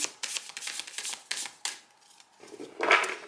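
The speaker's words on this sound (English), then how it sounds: "Probably haven't really shuffle this one, so I'm just going to do it quickly." A deck of tarot cards is shuffled quickly by hand, giving a run of rapid crisp riffles and flicks in short bursts, close and fairly quiet, with a brief pause before a final louder flurry.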